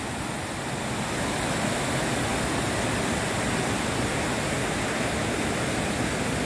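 The Khardu stream, milky white water, rushes loudly through green forest near a drinking-water dam, a dense, continuous roar of flowing water heard close and alone.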